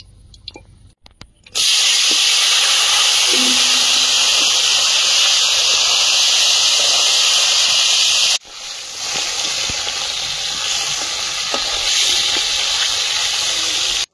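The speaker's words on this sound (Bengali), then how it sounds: "মাছ ভাজার জন্য কড়াইতে তেল দিয়ে দিচ্ছি।" Oil hisses loudly and steadily in a wok set on a stove for frying fish, a continuous bright sizzle that softens slightly partway through.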